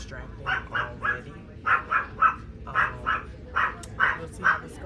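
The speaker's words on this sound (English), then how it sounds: "The dog is a little distracting already." A dog aboard a Brightline passenger train in Florida gives repeated short, yappy barks in quick clusters of two or three, fairly close and loud over the cabin's quiet hum.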